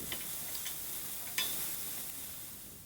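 Curry leaves and finely chopped onions fry in hot oil, giving a steady close sizzle with a few stirring clicks and one sharper crackle partway through; no one speaks.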